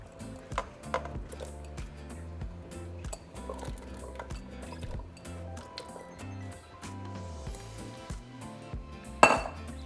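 Potatoes and carrots dropped into a pot of seafood soup, soft thuds and small splashes with clinks of a spoon against the pot, then a louder clatter near the end, close and quiet.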